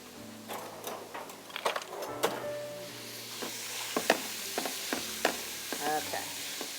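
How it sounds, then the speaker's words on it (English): Large onion and two ribs of celery cooking in a soup pot for chicken and cabbage soup, a soft sizzle under repeated scraping and knocking of a utensil against the pot, close and uneven. "there's our large onion, our 2 ribs of celery, and we're going to let that cook up"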